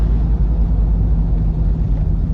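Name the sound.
exhaust tone of a 1982 Jeep Wagoneer Limited cruising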